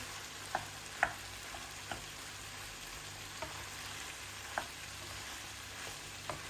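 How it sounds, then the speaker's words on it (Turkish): Pasta being stirred into tomato paste sauce in a pan: a soft, continuous frying hiss with a few light clicks and taps of the utensil spaced through the clip, fairly faint and close. "Makarnamı içerisine ekliyorum ve iyice karıştırıyorum."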